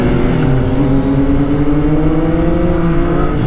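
A Triumph Street Triple motorcycle accelerates hard nearby, its engine note rising steadily through a loud, continuous whine with wind rush underneath.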